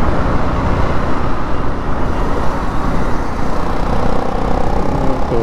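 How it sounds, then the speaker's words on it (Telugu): Heavy traffic on the ORR highway near a toll gate makes a dense, loud, continuous roar of cars, buses and trucks close by, with no talk over it. "ఇది ORR పైన చూడండి ఎంత ట్రాఫిక్ ఉందో అసలు."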